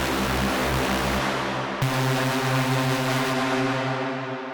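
A reFX Nexus Future Rave preset, Alive Once More, plays a loud, sustained synth chord that shifts to a new bass note partway through and then fades, heard alone with no voices.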